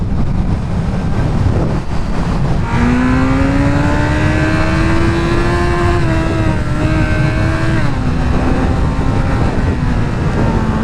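A Kawasaki Z900 motorcycle engine revs steadily upward to the rev limiter, its whine climbing in pitch over several seconds before leveling off and dropping slightly, with heavy wind rumble throughout.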